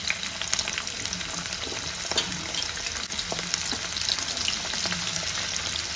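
Onions frying in hot oil for a bitter gourd curry, a dense steady crackling sizzle with occasional stirring taps, close and fairly loud, with no talking.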